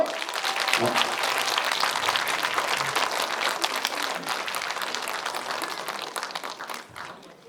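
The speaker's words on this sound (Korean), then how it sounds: "박수로 맞이해주세요." An audience at a performance applauds to welcome the performers. The clapping is dense and loud, sustained throughout and fading slightly at the end.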